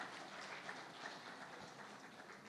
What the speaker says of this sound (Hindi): जोरदार तालियों से स्वागत करते हैं एक बार